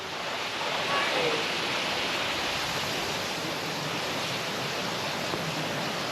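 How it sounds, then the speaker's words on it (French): Small waterfall of Déoulé in Ivory Coast, a steady broadband rush of falling water that stays even and continuous throughout, close and fairly loud with no pauses. "La petite cascade de Déoulé, méconnue de tous au profit de la grande cascade"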